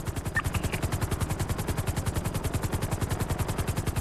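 Helicopter rotors in a video game beat out a fast, steady chop that stays loud and even from start to finish, with no talking.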